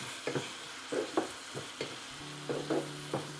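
Tomato and onion frying in a pan before eggs go in, with a soft steady sizzle broken by repeated scraping strokes of a spatula at a quick, uneven rhythm and no voices.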